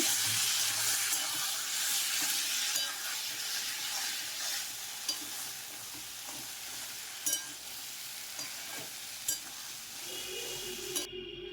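Chana masala being stirred and fried with salt in a pan, a continuous sizzle with occasional clinks and scrapes of the spoon, close up with no voices.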